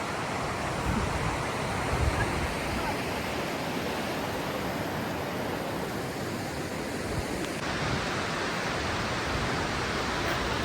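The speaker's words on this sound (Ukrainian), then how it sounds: "Мій улюблений водоспад." Narvis waterfall roars as a steady, dense rush of falling water, loud and constant throughout with no voices.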